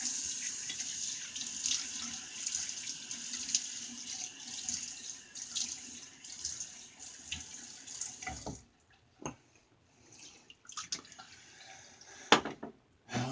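Tap water runs steadily into a sink for about eight seconds while a face is wetted for shaving, then stops and gives way to quieter splashes, drips and handling sounds.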